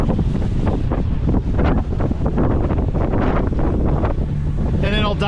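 Strong afternoon wind at a Catalina Island harbor roars and buffets steadily across the microphone, with gusty surges and a busy broadband rush throughout, loud and close, no voices.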